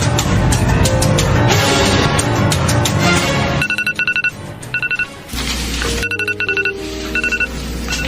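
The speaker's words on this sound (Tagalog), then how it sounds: "Nag-alarm na yung cellphone mo." A cellphone alarm rings in a radio drama, a repeated electronic beeping pattern in short pulsing bursts that enters after a dense stretch of music and keeps sounding over a low tone.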